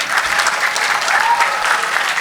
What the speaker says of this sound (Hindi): पूरी सभागार एक बार जोरदार ताली से स्वागत करें सर का